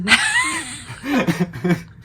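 A few short, rough coughs close up, with brief throat-clearing noises mixed in, heard alone.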